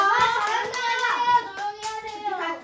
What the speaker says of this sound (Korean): 우리 잘 읽어준 친구 2명에게 박수